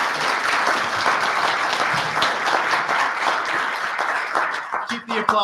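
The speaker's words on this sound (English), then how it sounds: "Keep the applause going while our panel comes to the stage here." Audience applause fills a policy forum on U.S. global leadership in Illinois, a dense steady wash of clapping that carries on throughout and thins slightly near the end as a few voices come through.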